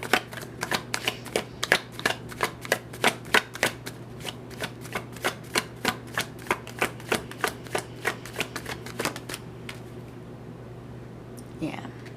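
Tarot cards are shuffled by hand in a steady run of about two dozen quick, crisp riffling bursts, close and fairly loud over a low hum, tapering off near the end.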